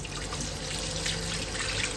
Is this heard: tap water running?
yes